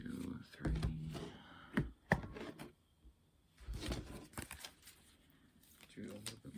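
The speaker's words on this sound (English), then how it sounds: "Do a little bit more shuffling." Tarot cards are shuffled in bursts of riffling and soft slaps, close and fairly faint, with pauses between rounds and some light handling noise.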